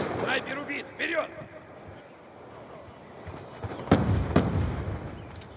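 A stun grenade goes off in Black Ops 2, two sharp bangs in quick succession followed by a rumbling tail, coming after a stretch of shouted voices and lower background noise.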